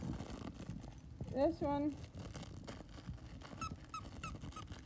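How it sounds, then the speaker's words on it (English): A squeaky dog toy gives a short pair of close, high squeaks, followed later by fainter squeaks, while a person speaks briefly and a dog moves about nearby. "Now let's see if we can find a squeaker in here."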